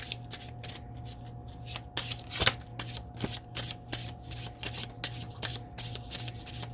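A deck of law of attraction oracle cards being shuffled by hand, with a steady run of crisp riffling bursts and soft card slaps close up over a low constant hum, with no talking.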